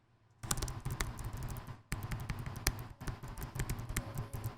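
A Logitech K Streamer keyboard being typed on: a steady run of crisp, close key clicks at an uneven pace, with a brief pause in the middle, and no speech.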